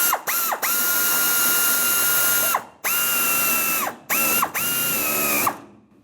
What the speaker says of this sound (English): I'm going to snug up the bracket clamp.